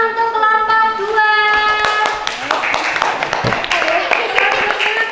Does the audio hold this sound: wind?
no